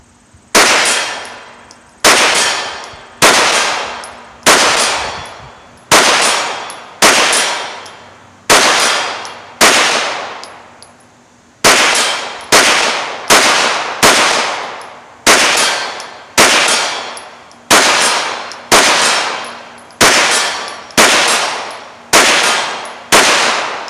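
An EXTAR EP-9 9mm pistol-caliber carbine fires brass-cased Norma 115 grain range ammo at steel targets about 60 yards away, with a steady series of sharp shots, each followed by a ringing clang of steel, no talk.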